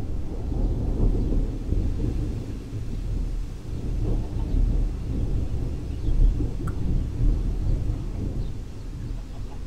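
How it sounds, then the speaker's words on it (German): In a Minecraft game, low thunder rolls and rumbles in long waves, distant and heavy, with a soft rain-like hiss underneath and no voices. "Es donnert."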